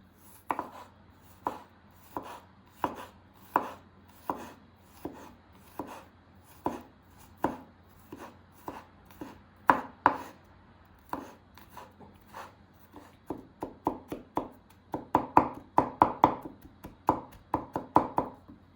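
Steady knife strikes on a cutting board finely chopping garlic cloves, dozens of quick close chops in an even rhythm that speeds into faster bursts near the end, no voices.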